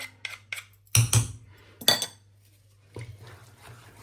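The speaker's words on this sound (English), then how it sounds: "I'm just going to scrape the back of my spoon because I know I've got cheese stuck there" Metal spoon scraped and knocked against a pan to clear off stuck cheese while making risotto carbonara: a few sharp, close clinks and scrapes in two bursts, then quieter rustling.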